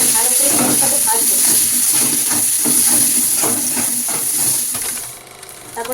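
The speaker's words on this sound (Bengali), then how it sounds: "তারপরে দেবো কাঁচা পেঁয়াজ। ভালো করে তেজপাতা ভাজবো।" Bay leaves and raw onion frying in a pan for a snail curry, a loud continuous sizzle with rhythmic scraping of a spatula stirring, easing off near the end.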